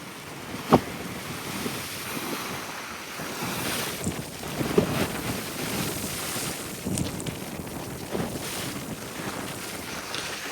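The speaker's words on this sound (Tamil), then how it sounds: "இன்றைய தினம் அதிகளவான அலைகள் காற்றுகள் இருக்குது" Rushing storm wind and the wash of high sea waves in Jaffna, with occasional louder surges and thumps over a constant windy roar.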